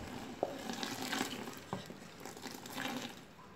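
Water poured into a cooking pan while making homemade degreasing detergent, a soft steady splashing and trickling with a couple of light knocks against the pan.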